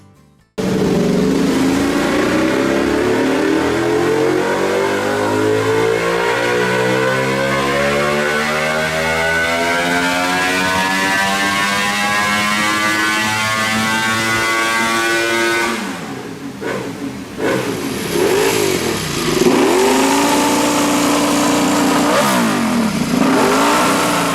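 A Ducati motorcycle engine from Bologna revs hard and loud for about fifteen seconds with rising pitch sweeps, then drops back and blips through several sharper, shorter revs near the end, with no talk over it.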